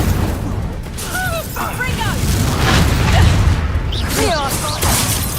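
Fiery spell blasts in the wizarding game Hogwarts Legacy, a loud sustained rumbling burst with crackling whooshes, overlaid by short voice-like calls and chirps.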